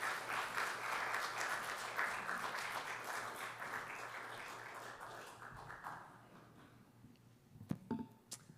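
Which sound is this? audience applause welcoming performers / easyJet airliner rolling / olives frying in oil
audience applause welcoming performers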